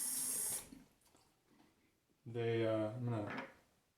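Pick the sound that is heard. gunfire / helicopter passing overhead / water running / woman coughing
water running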